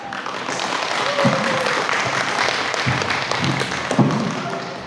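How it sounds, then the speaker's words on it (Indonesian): A school audience applauds at an inter-school junior high debate, a steady wash of clapping that holds for several seconds with no talking over it. "mari kita berikan tepuk tangan teman-teman"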